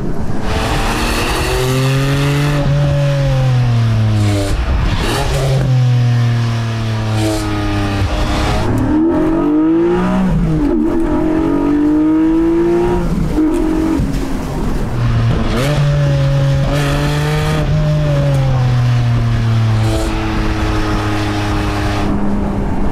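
A Porsche 718 Boxster GTS 4.0 with a naturally aspirated flat-six and manual gearbox pulls hard along a country road, its engine rising through revs, dropping at shifts and climbing again, loud and close throughout.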